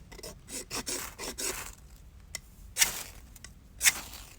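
A saw blade scraped hard along a ferro rod to throw sparks: a quick run of close, gritty rasping strokes, then a pause and two sharper, isolated scrapes, with no talking.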